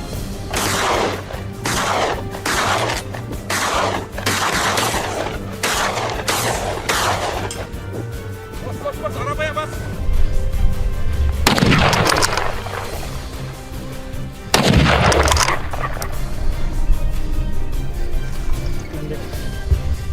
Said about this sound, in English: The successive gunshots quickly brought down two more from the herd